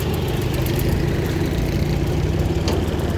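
A tractor engine runs steadily close by while driving out to a field with a plough behind, giving a dense, continuous low rumble with no breaks and no talking.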